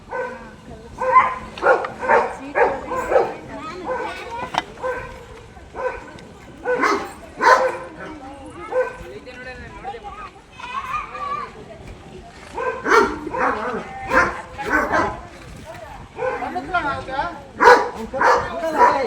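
A dog barks in repeated bursts, some sharp and some whimpering yips, at fairly close range, while people talk over and between the barks.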